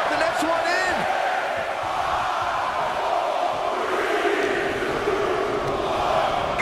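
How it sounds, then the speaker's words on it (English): Arena crowd in the WWE 2K24 video game during a 30-man Royal Rumble match, a dense, steady roar of cheering that holds at full volume throughout, with shouts rising out of it. "Listen to this crowd."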